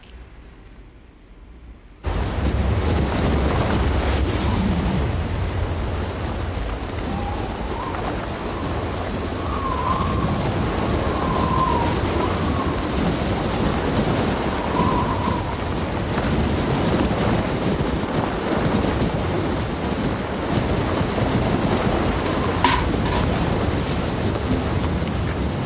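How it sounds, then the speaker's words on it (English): Strong west wind at a cloud-covered mountain summit, blowing around 55 and gusting to 63 miles per hour in 14-degree winter cold, roars as a steady, loud rushing broadband noise with no speech. "the wind is west at 55, gusting to 63 miles per hour"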